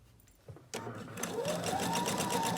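After a short quiet start, a sewing machine starts up and stitches a cloth napkin at a steady fast whir, nearby and moderately loud, with no voice over it.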